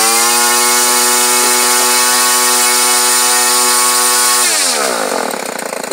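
A Craftsman 21cc two-stroke engine buzzes loudly and steadily at close range, with a strong harmonic drone that holds for several seconds before the pitch wavers and drops as the engine falls back toward a low idle.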